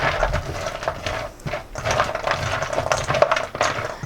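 Pecans coated in foamy egg white and vanilla extract being tossed in a bowl, giving a continuous close clatter and rustle of nuts shifting against each other in steady bursts.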